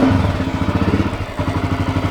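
A Honda XR600R single-cylinder motorcycle fires up on the first kick and settles into a loud, close, lumpy idle with a rapid, even thumping beat.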